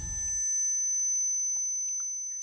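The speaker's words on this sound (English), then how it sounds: "A shrill ringing sound suddenly interrupted our deployment" A shrill electronic alarm rings in the video game Snowbreak Containment Zone, holding two steady high tones throughout with a brief low rumble at the start and a few faint blips behind it, no voices.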